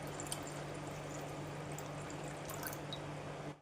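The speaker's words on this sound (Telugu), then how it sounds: "షుగర్కి 2 గ్లాసులు వాటర్" Water, about two glasses, is poured steadily over sugar in a pan to make syrup for gulab jamun, a continuous close wash of liquid with a low hum underneath.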